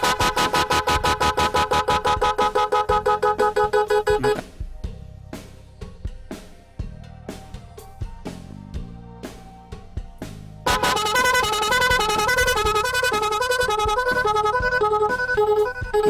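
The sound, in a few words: motorcycle echo horn relay module, 8 sounds, honking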